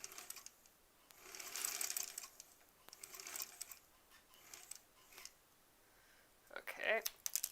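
A sewing machine stitches quilt block seams in quiet, whirring runs of a few seconds each with pauses between. A brief soft voice comes at the end.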